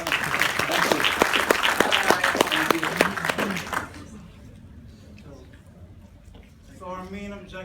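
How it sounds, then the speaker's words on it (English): Applause from the audience at a university capstone presentation, loud dense clapping for about four seconds before fading into quieter room noise, with a voice speaking near the end. "let's give a round of applause to Dr. Shunyan"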